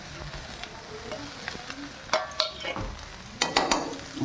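Chow mein sizzling in a frying pan while a utensil stirs and scrapes through it, with a steady fry hiss under several sharp clinks and scrapes toward the end, close up.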